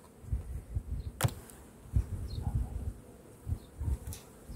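Honeybees buzzing around a large, strong colony in an opened hive during frame handling, intermittent buzzing passes close by with a few sharp knocks, no speech.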